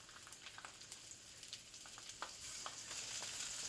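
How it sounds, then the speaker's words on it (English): Sausages sizzle and crackle in oil left over from cooking vegetables, with a steady frying hiss and scattered pops and spatters near the pan, and no one speaking. "I'm going to lay the sausages in here. In the same oil, I want all the flavors to mingle."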